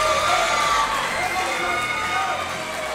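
A dense, continuous roar of cheering and shouting from a crowd at a Muay Thai fight night in Cape Town, holding steady and loud for the whole stretch with no break.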